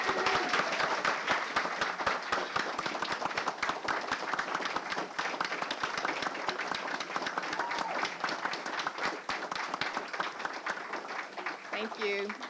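Council members and attendees at a city council meeting applaud police officers, with dense, sustained clapping that continues steadily throughout, and a voice briefly heard beneath it.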